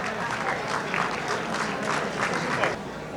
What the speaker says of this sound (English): A round of applause for our committee, the parade committee that did so much